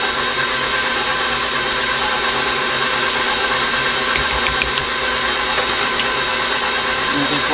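An electric mixer blends coffee cake batter in a bowl, its steady whirring drone running continuously and loud with no pauses.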